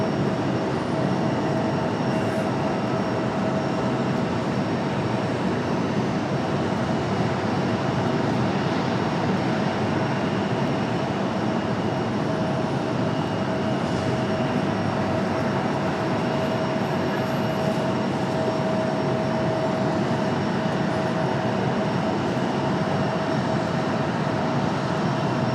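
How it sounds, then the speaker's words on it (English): Southwest airliner landing at Raleigh Durham airport, heard as a steady, continuous broadband roar of jet noise with a faint tonal whine, fairly distant and unbroken throughout, with no voices. "Got a Southwest touching down over on the other side currently."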